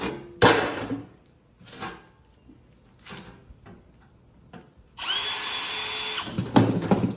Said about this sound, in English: Make the hole for the heater core. Just use a stepper bit.